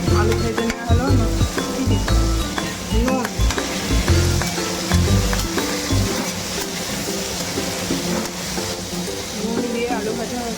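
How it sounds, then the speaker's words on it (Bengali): Potatoes frying in salted oil in a home kitchen give a steady, close sizzle with clinks and stirring scrapes throughout, while a person talks over the cooking. "দিয়ে আলু ভাজা হচ্ছে"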